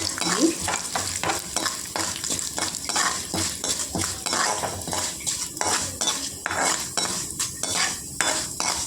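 Split urad dal frying in a pan for Andhra-style gongura chutney, with a lively close sizzle and frequent metallic scraping and clinks of a spoon stirring against the pan, with no talking.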